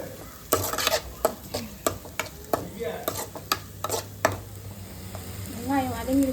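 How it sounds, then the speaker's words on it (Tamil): A spatula scrapes and taps rhythmically through ginger and garlic frying in a pan, about a dozen sharp strokes over a low, steady sizzle, close and fairly loud, with a brief voice near the end. "இஞ்சி பூண்டு போட்டு நல்லா வதக்கிக்கலாம்."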